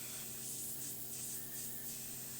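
An airbrush sprays paint through a template in a steady, soft hissing stream that runs unbroken and alone throughout.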